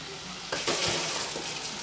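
Chicken coxinha croquettes browning in hot oil in a pan, a soft sizzle that jumps to a brighter, louder crackle halfway through and keeps hissing steadily.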